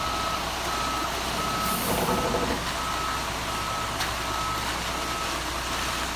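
Ready-mix concrete truck backing up at a driveway pour, its reversing alarm beeping steadily in a regular on-off rhythm over a loud, constant diesel engine rumble, with a brief hiss partway through.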